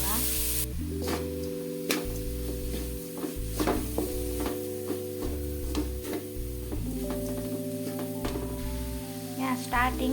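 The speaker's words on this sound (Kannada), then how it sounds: "ಇತ್ತೆ ಗ್ರೈಂಡ್ ಮಲ್ತಿದ್ದಿನ ಮಸಾಲೆ ಒಂಚೂರು ಫ್ರೈ ಮಲ್ಪುಗ" Ground masala fries in a pan with a steady, close sizzle, broken by occasional sharper ticks and scrapes as it is stirred, all over a constant low tonal background.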